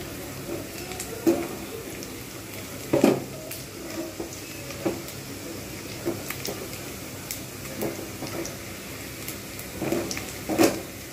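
Onions frying in a pan over medium-low heat, a soft continuous sizzle broken by periodic stirring scrapes and taps at irregular intervals.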